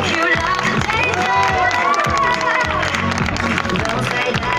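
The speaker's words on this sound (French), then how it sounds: "nous pouvons applaudir une dernière fois très fort, Cookie et Jimmy" Audience applause and cheering at the end of an animal show at a zoo, loud and continuous, with children shouting and a presenter's voice over the crowd.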